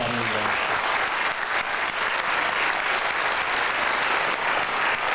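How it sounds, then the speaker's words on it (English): A large audience applauds continuously in a Sonoma State University lecture hall in 1992, dense and loud throughout, with no voices on top. "asking a really great round of applause to John Lilly, okay?"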